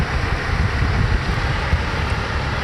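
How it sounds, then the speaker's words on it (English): Wind gusting outdoors on a rainy day, a steady loud broadband roar buffeting the microphone with low rumble and no voices. "it's a little windy over here."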